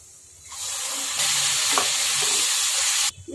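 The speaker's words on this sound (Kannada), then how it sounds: "ಇವಾಗ ಕಟ್ ಮಾಡಿರೋ ಟೊಮೆಟೊ ಹಾಕ್ಕೊಳ್ಳೋಣ ಗೈಸ್" Chopped tomato hits hot oil in a pan and bursts into a loud, steady sizzle that holds for about three seconds before cutting off abruptly, with no voices.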